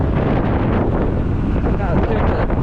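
Wind buffets the microphone while riding an Eahora M1P electric chopper bike on a highway, a loud continuous rumbling roar with gusty swells.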